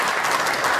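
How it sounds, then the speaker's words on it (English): A studio audience bursts into dense, continuous applause during a heated live political interview, steady and loud for a brief moment. "The studio erupted with applause as heads nodded in agreement and cheers echoed across the room."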